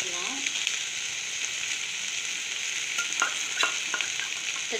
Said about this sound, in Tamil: அப்படியே நம்ம வந்து நல்லா இதில் வந்து மிக்ஸ் பண்ணி கொடுக்கலாம்